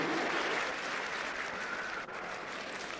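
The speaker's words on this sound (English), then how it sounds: "let's hear applause for our sponsors" An audience at a professional boxing night in the Ulster Hall applauds steadily, with dense, sustained clapping filling the hall throughout.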